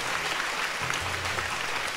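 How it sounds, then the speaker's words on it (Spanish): A church congregation at a live choir praise service applauds for Christ, a steady wash of clapping from many hands for two seconds with a low hum beneath. "los aplausos para Cristo"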